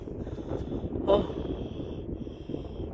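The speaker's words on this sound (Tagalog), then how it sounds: "Pero masalubong namin yung malakas na hangin." Gusty wind roars and buffets against the microphone in an uneven, rumbling stream, with a brief exclamation from a voice partway through.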